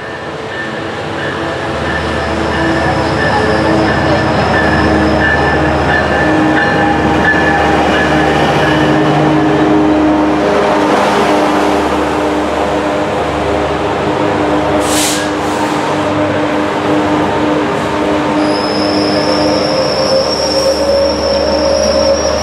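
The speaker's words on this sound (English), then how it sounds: "Train 664 is making some weird sounds" Metrolink commuter train 664 pulling into Fullerton station, wheels squealing over a loud, continuous rumble of rail cars rolling close by, with sharp high-pitched screeches rising toward the end.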